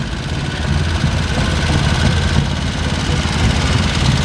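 An old steam tractor pulling an old threshing machine gives off a steady low rumble and chug, continuous and fairly loud, with no talk over it.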